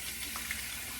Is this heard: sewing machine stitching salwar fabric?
no